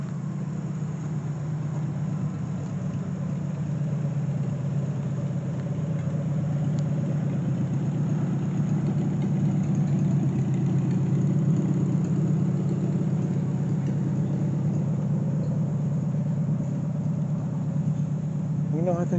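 A propane-powered engine idles close by at a gas and steam engine show, a continuous low rumbling drone that holds even throughout with no breaks.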